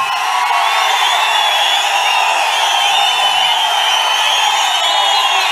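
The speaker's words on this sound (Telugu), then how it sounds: "మీ చప్పట్లే చెప్తున్నాయి మీ ఆమోదాన్ని" A large rally crowd in Palamaner roars continuously, with high whoops and whistles rising over a dense wall of cheering that stays loud and unbroken throughout.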